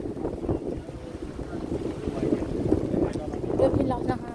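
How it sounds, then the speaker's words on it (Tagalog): Strong wind buffets the microphone outdoors near a church with a white cross, a steady low roaring rumble that swells and gusts without a break for the whole stretch. "Grabe lakas ng hangin."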